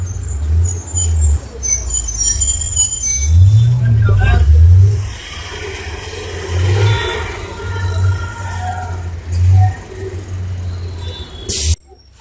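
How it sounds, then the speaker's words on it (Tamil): A city bus on route 299 to Wakdewadi pulls into Swargate bus stand in Pune with a loud, close engine rumble and a hiss of air brakes, while people talk over the station noise. "நமக்கு 299 பஸ் வந்துருச்சுங்க."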